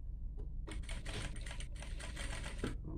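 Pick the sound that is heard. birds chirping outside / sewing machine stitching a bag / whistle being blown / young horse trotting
sewing machine stitching a bag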